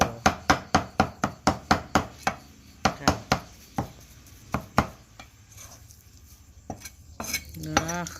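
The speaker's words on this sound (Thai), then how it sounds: "เราต้องสับเอาค่ะ" A knife chops fish meat on a board in quick, sharp, evenly spaced strikes, about a dozen in a row, then slower scattered chops with soft kitchen clatter near the end.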